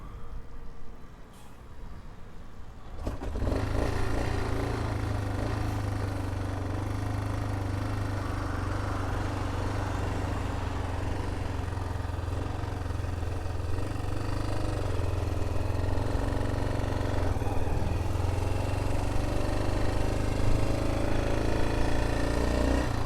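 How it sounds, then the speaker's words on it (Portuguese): A Yamaha Ténéré motorcycle that won't start on the kick pedal, with a suspected valve fault, is bump-started on a small slope. After about three seconds of near quiet the engine catches and settles into a loud, steady, close running rumble. "A moto não tá pegando no pedal."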